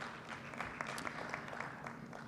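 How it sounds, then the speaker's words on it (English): Applause from the audience at an economic growth forum for Stephen Nasimwe, a moderate, steady patter of many hands with a few sharper claps standing out, somewhat distant and roomy, running evenly throughout. "Round of applause for Stephen Nasimwe."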